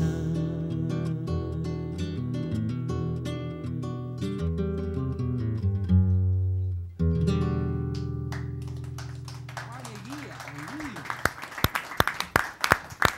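A sung ballad at a singer-songwriter concert fades on sustained notes, then scattered claps build into audience applause over the last few seconds.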